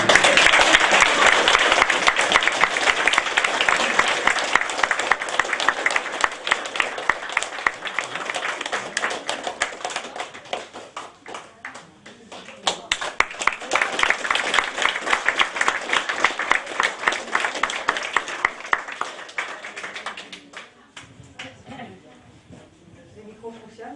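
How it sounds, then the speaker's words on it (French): Warm audience applause at the close of a school stage show, dense clapping from a crowd filling the room for about twenty seconds before thinning out and fading. "Merci beaucoup de vos chaleureux applaudissements"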